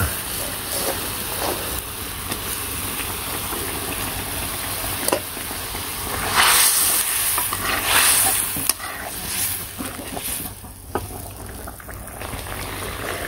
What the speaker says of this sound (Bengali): তো এর মধ্যে এখন শিং মাছগুলো ছেড়ে দিলাম, মাছটা একটু সিদ্ধ হোক